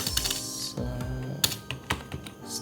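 Typing on a computer keyboard: quick clusters of close, crisp key clicks with short pauses between bursts and a few sharper, louder taps.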